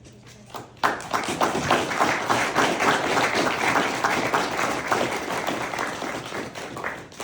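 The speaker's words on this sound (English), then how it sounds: "If we can get one more round of applause for our Rebesco special guest." Audience applause closing a talk session, a sudden burst of many hands clapping that starts after a second of near quiet and carries on steadily and fairly loud, easing slightly toward the end.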